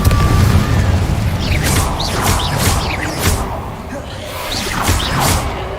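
Spell blasts from Incendio and Confringo in the Hogwarts Legacy video game: a run of whooshing bursts and booming impacts over constant game ambience and music, several casts in quick succession.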